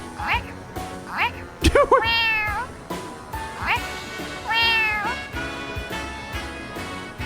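A human voice imitates a cat in the video game The Legend of Heroes: Trails to Azure, giving a series of high, drawn-out meows spaced over several seconds, with some talk between them.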